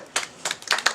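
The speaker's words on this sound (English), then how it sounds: "applause for Stephen" Scattered applause for a poet at a Barnes & Noble reading, a few small, close bursts of hand clapping with no talking.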